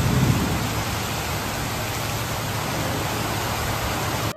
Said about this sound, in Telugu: ఇటు సైడ్ నుంచేమో వర్షం పడుతుంది